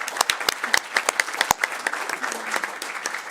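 An audience applauds at an energy poverty policy conference, with dense, steady clapping and sharp individual claps standing out, close and fairly loud throughout.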